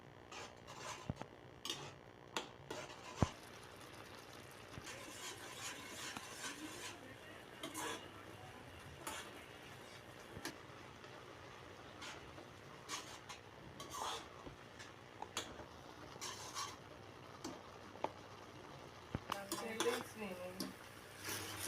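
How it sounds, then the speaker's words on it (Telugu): Vermicelli upma stirred in a pan on low flame, faint scraping strokes with a soft sizzle underneath, steady and quiet, with occasional light clinks of a spoon. "ఇప్పుడు లో ఫ్లేమ్లో పెట్టుకుని తిప్పుకుంటూ ఉంచి అది దగ్గర పడే వరకు వెయిట్ చేయాలి"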